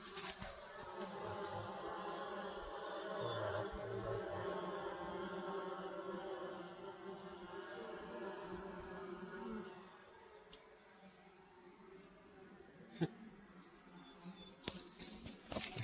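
Agitated honey bees buzz steadily around a hive being worked with a smoker, a dense close drone that thins out near the end, followed by a few sharp knocks.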